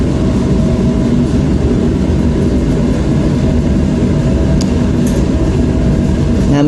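A spin coater spins a wafer with a loud, steady whirring hum that holds constant throughout, with a couple of faint clicks near the end.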